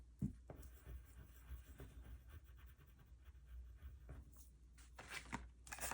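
A red pen scratches quickly across paper circles, coloring them in with fast back-and-forth strokes, soft and close with faint rustling and no talking.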